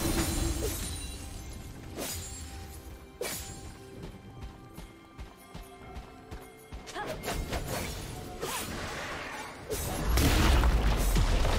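A turret being destroyed in League of Legends: a string of sharp crashing and shattering impacts spaced a second or two apart, with a heavier rumbling burst near the end, moderately loud amid game effects.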